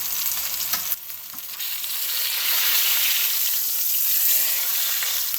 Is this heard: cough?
no